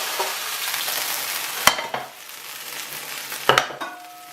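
Meat dipped into a hot casserole pan sizzles and crackles loudly and steadily, broken by a couple of sharp clinks of utensils against the pot.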